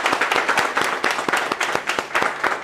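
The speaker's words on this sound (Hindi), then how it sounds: "मैं चाहूँगा सर के सम्मान में एक बार जोरदार तालियां बजाएं आप सब" An indoor audience gives a guest speaker a loud round of applause, rapid close clapping from many hands in a steady burst with no talking over it.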